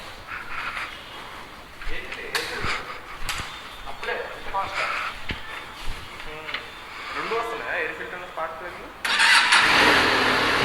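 A Benelli TRK502 motorcycle engine cranks and fires up nearby, with people talking over the starting attempts before the idle settles into a loud, steady running tone.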